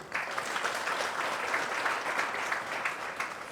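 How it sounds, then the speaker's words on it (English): An audience claps steadily for President Museveni at a party gathering, a dense, sustained wash of many hands from start to finish with no voices standing out. "I want you to clap for President Museveni"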